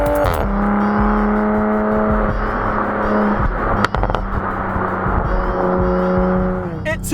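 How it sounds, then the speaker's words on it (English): A 2020 Toyota Supra GR 3.0's exhaust roars and burbles while driving, engine tone rising and falling through shifts, with a sharp crackle midway; loud and close. "listen to that exhaust"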